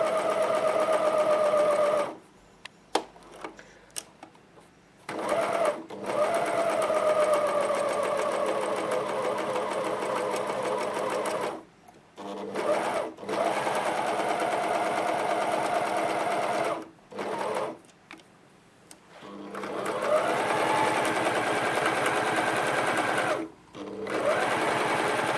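Overlocker sewing machine stitching around the edge of a fabric Christmas tree napkin, a close mechanical whirring hum that runs in several bursts, stopping and restarting with short quiet gaps and slight changes in motor pitch.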